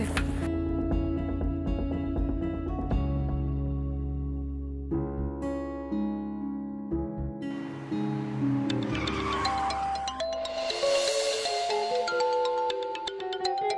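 A phone plays a melodic ringing tone while a call is being placed: a sustained tune of layered tones carries on steadily for several seconds, fairly quiet and with no voices over it.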